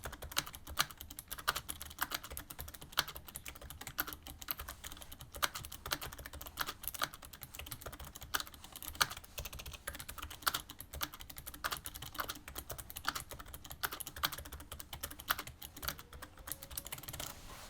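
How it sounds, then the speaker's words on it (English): Fast, steady typing on a $60 low-profile V3 keyboard with mecha membrane switches. Key presses come in quick, even succession for the whole stretch, close up and fairly quiet, with no voices. "here's just a quick sound test of how the V3's mecha membrane switches sound."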